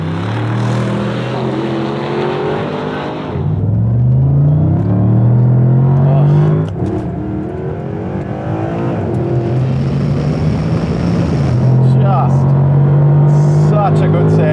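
Mercedes-Benz SLS AMG and SLR McLaren launching from about 30 km/h in a drag race, loud engines rising in pitch through repeated gear changes, a steady close roar throughout.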